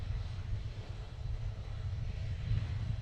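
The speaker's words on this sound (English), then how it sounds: "so we're gonna hear some engines." Aircraft engines roar steadily at a distance during a runway 28 takeoff at Princess Juliana Airport (SXM) on Sint Maarten, a constant low rumble with no voices.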